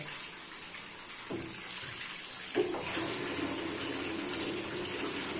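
Rice is washed under running water from a kitchen tap, a steady close gush with a couple of soft knocks of grains and vessel, no talking.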